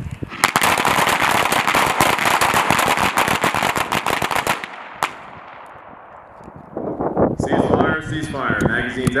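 Soldiers firing pistols at targets in a small arms championship, a dense, loud burst of many overlapping shots for several seconds, then quieter sporadic shots and a command voice shouting over the range.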